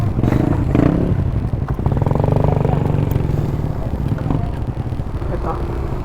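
Several Suzuki Raider motorcycles riding together in traffic on the Marilaque road, engines droning steadily with rising revs and passing vehicle noise, mixed with wind buffeting on the microphone.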